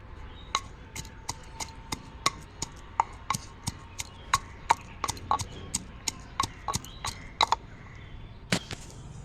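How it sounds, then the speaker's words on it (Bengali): Garlic clove being crushed and pounded for a lentil and taro-stolon dal, a steady series of sharp, close knocks repeating at an even rhythm, with no talk. "একটা রসুন নিয়েছি, সেটাকে থেতো করে নিব।"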